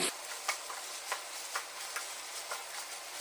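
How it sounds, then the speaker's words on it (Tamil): Cluster beans sauté in a pan with a soft, faint sizzle, punctuated by regular light taps of a spoon stirring every half second or so. "நம்ம சேர்த்துக்கிட்ட கொத்தவரங்காவை ஒரு ரெண்டு நிமிஷத்துக்கு நல்லா வதக்கிடுவோம்"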